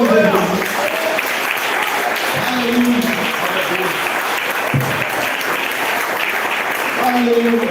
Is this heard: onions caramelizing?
no